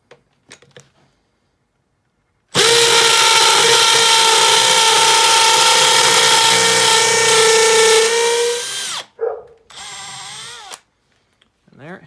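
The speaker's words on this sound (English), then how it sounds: "now we'll drill to that depth" A power drill bores into a workpiece fitted with a depth gauge, running loud and steady for about six seconds before stopping, then a short second burst follows.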